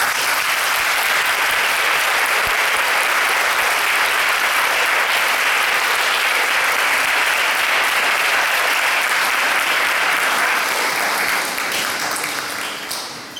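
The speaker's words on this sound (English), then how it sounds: "I think we need to give one more round of applause." Audience applause at a Sai Center gathering in New Jersey, a steady, dense round of clapping from a large crowd that holds for over ten seconds before easing off at the end.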